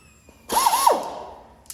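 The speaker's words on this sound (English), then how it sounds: "Now I'm going to just file off these heads right here." A belt sander grinds the heads off rivets on a shop truck, a short loud burst of high abrasive whine with a squealing pitch sweep, then fading to quiet.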